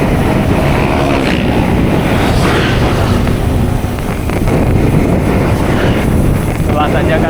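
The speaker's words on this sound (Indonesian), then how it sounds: "Angin dari samping kenceng ya." Heavy, steady crosswind buffeting the microphone while cycling down a long descent, with a continuous low roar and rushing noise throughout, loud and close.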